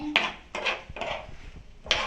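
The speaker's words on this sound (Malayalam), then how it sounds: "സവാള വഴറ്റുവാണ്, അപ്പൊ അതിലേക്ക് നമുക്ക് ഉപ്പ് ഇട്ട് കൊടുക്കാം." Onions sauté in oil in a pan while a utensil stirs them. Four short scraping, clattering strokes come close and fairly soft, with no talking.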